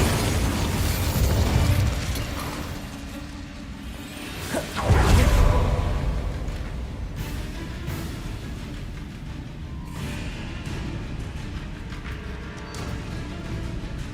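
Incendio fire spell cast in Hogwarts Legacy: a loud whooshing burst of flame around the five-second mark, swelling from a sustained roaring, crackling fire and game mechanisms that carry on steadily at a lower level afterward.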